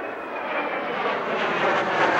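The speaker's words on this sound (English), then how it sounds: "After what seemed like a long absence, Allied aircraft soared overhead." Allied aircraft roar overhead in the combat flight game Ace Combat 4, a steady, loud, broadband engine drone with no talking.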